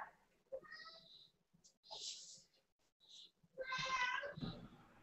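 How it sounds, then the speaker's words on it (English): A house cat meows several times indoors, short mid-pitched cries spaced across a few seconds with quiet gaps between, close and fairly soft. "Do you hear the cat?"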